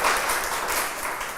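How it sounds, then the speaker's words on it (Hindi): A group of participants in a Hindi-language life skills session claps together, a dense, steady patter of hands that stays fairly even from start to finish with no voices over it. "तो एक ताली बजा लें"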